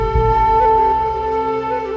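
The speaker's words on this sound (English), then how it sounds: "You can hear a gentle duduk flute playing in the background." Soft duduk-style wind melody with sustained, breathy tones drifts over a low ambient bed in fantasy game music, steady and gentle throughout, no voices.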